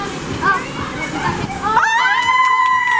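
Water splashes and sloshes as a rider comes down a water slide on a cruise ship, with excited voices calling out over it.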